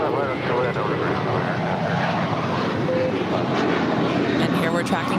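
A JetBlue Airbus A321 jet airliner, eight years old, departs LAX bound for JFK, a continuous loud engine roar filling the scene while someone talks over it.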